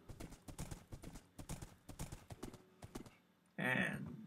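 A horse gallops in Minecraft, a quick rhythmic clip-clop of hoofbeats repeating for several seconds before giving way to a short loud horse whinny.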